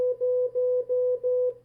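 Morse code CW sidetone sending the number zero: five long dashes of a pure steady beep, evenly spaced, clean and alone over a faint low hum.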